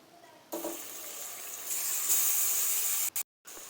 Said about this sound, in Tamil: இப்போது நம்ம கழுவி வச்சுருக்கிற சிக்கனை சேர்த்துக்கலாம்